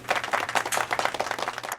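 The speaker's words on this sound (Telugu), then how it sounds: "Claps to Arun." Applause at a school award ceremony as a student named Arun is called up to the stage, a steady dense patter of many hands clapping throughout, moderately loud and without talk.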